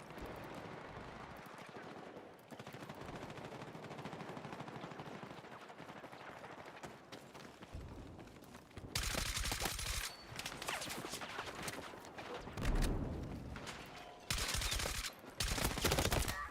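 Rapid gunfire in the Battlefield 6 video game, fired with low drag ammunition, comes in several loud dense bursts after a quieter stretch of game ambience, with shots hitting near barbed wire.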